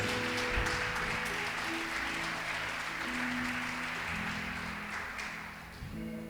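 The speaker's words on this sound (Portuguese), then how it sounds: "pelo amor de Deus, aplauda Jesus Cristo de Nazaré" A church congregation in Manaus applauds in a steady, sustained wash of clapping, with held musical tones underneath, fading slightly near the end.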